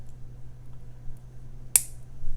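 Wire cutters snip off the excess tail of jewelry wire with one sharp, quiet click against faint background hiss.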